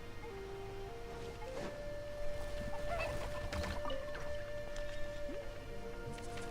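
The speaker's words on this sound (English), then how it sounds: "I just noticed these guys sound like chickens." Creatures in Genshin Impact give short, clucking, chicken-like calls with a honking edge, faint and scattered over a constant background tone.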